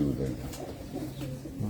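Old Sialkoti pigeons coo on a rooftop loft in Abu Dhabi, giving a brief, close, low cooing that overlaps a voice.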